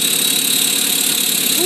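A 1973 Toyota FJ40 Land Cruiser's inline-six 1F engine runs steadily on its first start, a close, loud, even drone with no break.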